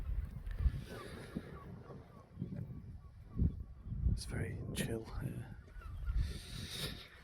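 Seagulls squawking on the UK coast, several sharp calls clustered in the middle of the clip over wind buffeting and a low rumble, with someone speaking briefly.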